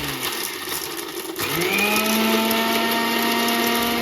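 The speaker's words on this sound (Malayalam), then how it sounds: "ഇതെല്ലാം കൂടെ നമുക്ക് മിക്സിയുടെ ചെറിയ ജാറിലിട്ടിട്ട് ഒന്ന് അരച്ചെടുത്തിട്ട് വരണം" A mixer grinder's small jar grinds garlic, ginger, chili, pepper and fennel into a paste, its motor whine jumping louder after a short start and holding steady, close and alone.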